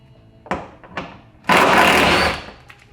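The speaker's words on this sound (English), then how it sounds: "So I'm going to use my cordless impact, and it's 12mm bolt." A cordless impact wrench removes 12mm bolts from an underbody panel on a Subaru WRX STI. Two brief taps come first, then one loud buzzing, rattling burst of about a second, close to the mic.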